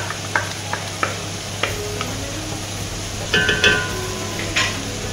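A spoon scrapes through tomato paste and chicken in a pot in a slow, regular rhythm of distinct strokes, close and clear over a steady low background hum.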